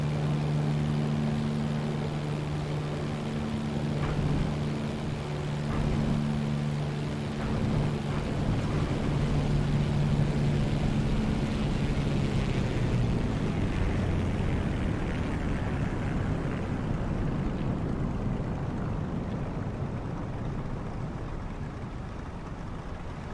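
A plane touches down in Microsoft Flight Simulator 2024, landing well off the runway: a loud steady engine drone with humming tones that fades and gives way to a broad rumbling roll as the aircraft settles.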